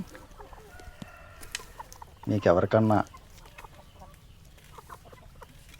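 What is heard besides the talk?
hens clucking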